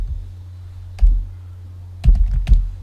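Computer keyboard keys clack in a quiet room: one press, a pause, then a short cluster of several keystrokes, including Enter, close and crisp over a low hum.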